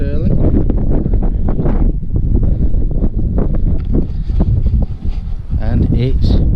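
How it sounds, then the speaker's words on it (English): Strong, cold wind at Stirling Castle buffets the microphone in heavy, uneven gusts, drowning out a person speaking underneath. "And it's windy and cold."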